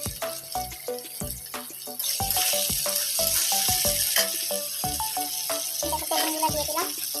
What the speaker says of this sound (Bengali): একদম কড়া করে ভেজে নিচ্ছি।